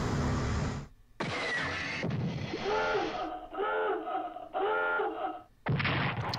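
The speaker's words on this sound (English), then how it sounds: "I never get bored of that submarine dive sound" In the World War I strategy game Strategic Command, a submarine dives with whooshing, rumbling bursts followed by repeated warbling, bubbling swells, loud and sound-effect-like, with no talking.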